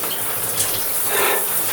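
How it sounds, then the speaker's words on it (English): Freezing cold water pours and splashes steadily over a person for a brief moment, a dense close rushing gush with no voices. "I am currently being doused with freezing cold water"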